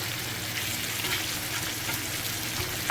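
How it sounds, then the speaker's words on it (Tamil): Fish pan-frying in a little oil for a fish curry meal, a constant close sizzle with faint crackles and occasional light scraping, steady throughout and without speech. "கையோடு வந்துட்டு மீனும் அப்படியே வறுக்கிறதுக்கு போட்டுட்டேன்."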